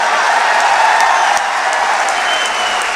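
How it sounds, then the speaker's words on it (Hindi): Loud, dense applause from a poetry-recital (kavi sammelan) audience fills the space steadily and close by, a continuous wash of many hands clapping without pause. "तालियां बजा दोगे तो एक गीत और सुना दूंगा"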